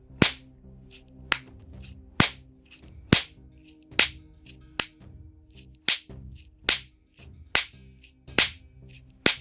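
A Kenner RoboCop action figure fires blue caps in rapid succession: about a dozen sharp, loud cracking pops at a fairly steady pace, each one close and alone over quiet background.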